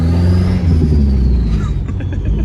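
A 1990 Foxbody Mustang with a swapped 2.3 turbo engine roars steadily as it accelerates, a loud, continuous low rumble close by, with voices faintly present underneath.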